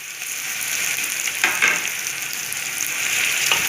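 Chicken pieces frying in oil with onion and ginger-garlic paste for a chicken jalfrezi, giving a steady close sizzle with a few brief stirring scrapes.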